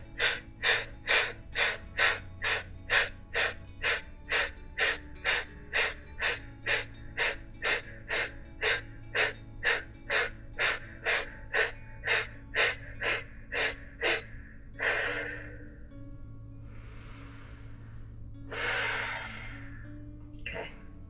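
Deep, rhythmic breathing during a hatha yoga session: a long run of quick, evenly spaced forceful breaths, close and steady, followed by a few slower, longer inhales and exhales.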